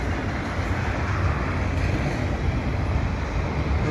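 A CP freight train with double-stack containers and auto racks rolls past, a loud, dense, continuous rumble that holds steady throughout with no voices.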